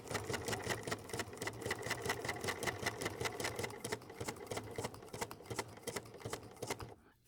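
A sewing machine stitching wool applique, a rapid, even mechanical chatter of stitches running close and steady for several seconds before stopping abruptly at the end, with no talk.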